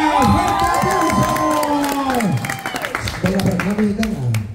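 An audience at a lively game show claps and cheers, with whoops and shouts rising over the applause, while a presenter's voice booms loudly over the crowd noise throughout.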